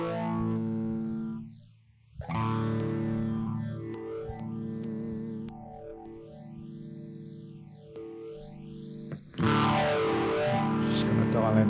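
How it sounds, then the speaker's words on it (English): An electric guitar plays through a USB interface with distortion, chorus and stomp-box effects, giving sustained, heavily processed chords with sweeping phaser-like swirls. It stays loud and close throughout and swells brighter near the end. "three slots down at the bottom for a variety of stop boxes, phasers, flanges, compressors, distortion,"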